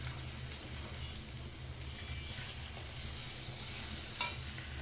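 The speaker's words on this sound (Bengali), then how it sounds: "এই যে কড়াইয়ে মাছ দিচ্ছি, উল্টে উল্টে ভেজে নিতে হবে" Pangas fish heads frying in oil in a wok, with a continuous close sizzle and bubbling and occasional sharper spatters as the pieces are turned.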